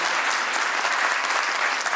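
A crowd at a Pakistan Day function in Barcelona breaks into steady, dense applause for a guest, a continuous wash of many hands clapping at even loudness throughout.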